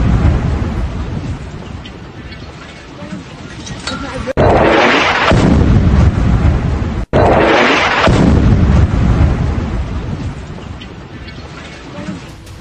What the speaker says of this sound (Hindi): ये हमले और भयानक धमाकों की तस्वीर हम आपको लगातार दिखा रहे हैं